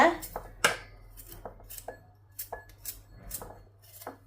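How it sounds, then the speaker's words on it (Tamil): A knife chops coconut pieces into small bits on a board for Sri Lankan Aadi koozh, making a string of sharp, close, irregular taps and knocks with short gaps between them. "தேங்காய் சொட்டை வந்து நீங்கள் சின்ன சின்னனாக கட் பண்ணி எடுக்க வேணும்"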